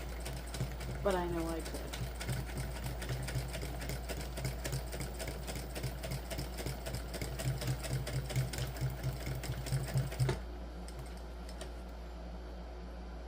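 A home sewing machine stitches a Blossom crossbody bag in a steady running whir for about ten seconds, then stops, with a person speaking briefly over it and the needle sounding slightly off.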